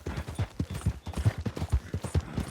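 Rapid, steady hoofbeats of a galloping horse in Red Dead Redemption 2, a close, rhythmic clip-clop over a rumbling background with no speech.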